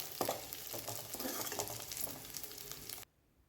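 Garlic cloves stirred and fried in a pan for Andhra-style gongura chutney, a steady close sizzle with scraping stirs for about three seconds before cutting to near silence.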